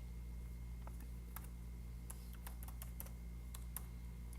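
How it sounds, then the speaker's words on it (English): Typing on a computer keyboard: scattered, uneven key clicks in small bursts over a steady low electrical hum, with no talking. "So, doing a little typing here."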